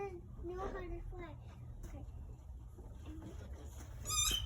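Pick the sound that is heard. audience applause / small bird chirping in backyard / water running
small bird chirping in backyard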